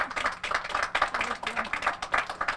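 Audience applause for a library director at a community event, a steady patter of many hands clapping with scattered voices mixed in.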